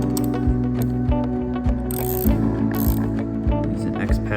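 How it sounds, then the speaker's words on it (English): A wrench ratcheting as it tightens the bolts on a pump during a double mechanical seal change, with steady close clicks in a regular rhythm over a constant background hum. "Use a 7/16 wrench to tighten the bolts."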